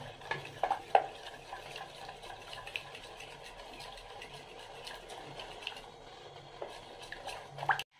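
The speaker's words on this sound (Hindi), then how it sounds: "और अब इसको अच्छे से चलाना है" Homemade chocolate mixture is stirred in a pan on low heat, giving soft scraping and wet squishing sounds with occasional light clinks, faint and close.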